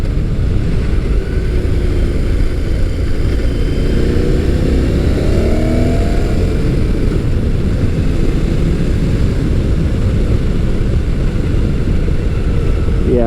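A Motus MSTR motorcycle with a 1650cc V-4 engine on the road, a loud continuous engine drone mixed with heavy wind rush, rising briefly in pitch as it accelerates midway.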